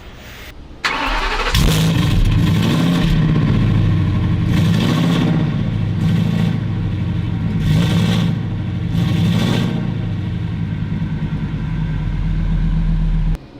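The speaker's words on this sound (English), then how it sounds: "put the microphone right by that exhaust" A Class C RV engine cranks and starts, then revs repeatedly in rising and falling surges with a deep, loud rumble recorded right at the exhaust, cutting off at the end.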